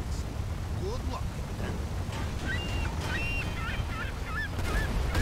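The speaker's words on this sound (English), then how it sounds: "Random seagull noises." Seagull calls in the GTA 5 video game, scattered honking cries over a loud, steady rumbling background with some speech.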